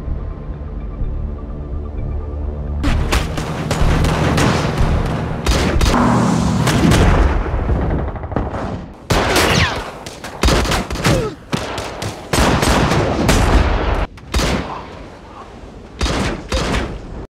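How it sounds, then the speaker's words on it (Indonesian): Intense gunfire in a gang shootout in a snowy crime film, rapid bursts of sharp, loud shots and booming blasts in dense volleys, broken by brief pauses, over a low rumbling bed. "Tembak-tembakan antara dua geng ini sangat sengit"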